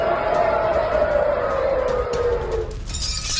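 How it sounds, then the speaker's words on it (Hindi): An air raid siren in Tel Aviv, Israel, sounding after an attack from Yemen, wails, its tone sliding slowly downward over a few seconds before fading into background noise. "आप देख रहे हैं एयर अलार्म बज रहा है।"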